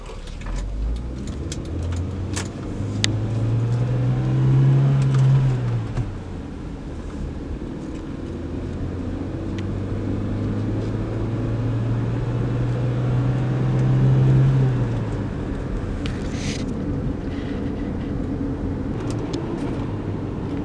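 A clean first-generation Honda CR-V with a manual gearbox, fresh oil and fresh plugs, out on a test drive. A steady low engine and road drone rises and falls twice as it works through the gears, with no talk.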